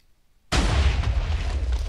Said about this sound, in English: This will fire first, blowing this in the air and make an explosion in the air.